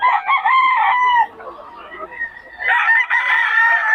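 An eight-month-old gamefowl stag crows nearby, two loud drawn-out calls with a short quieter gap of clucking between them, at a gamefowl market in Bocaue.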